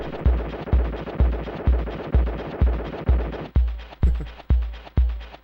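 Rapid, rhythmic bursts of gunfire in a Super Nintendo video game, the shots keeping time with the music across several seconds, loud and with no talk.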